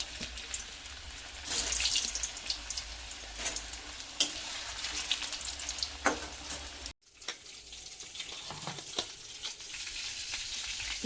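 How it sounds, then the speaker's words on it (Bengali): Potatoes fry in hot mustard oil in a wok for jackfruit and prawn curry, a low steady crackle with scattered spatula taps, a brief cut near the middle, then the sizzle resumes. "তো ওই ভাজার জন্য আমি কড়াইতে সর্ষের তেল দিয়েছি, তেলটা গরম হয়ে গেছে। প্রথমে আমি আলুগুলো ভাজবো"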